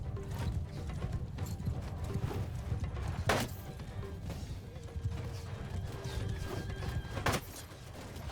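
Cavalry horses gallop in battle in the video game Mount & Blade 2: Bannerlord, with low rumbling hoofbeats running steadily and two sharp crashing hits standing out above the din.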